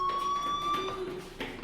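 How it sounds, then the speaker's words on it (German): A fire alarm ringing in the Life is Strange video game, a steady electronic tone sounding throughout at moderate level, with some background noise beneath. "Hey, do you hear that fire alarm? That means you should be"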